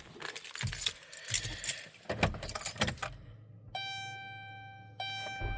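Metal keys jangle and clink in several rattling bursts, close by, followed by a steady electronic chime tone repeating over a low car hum.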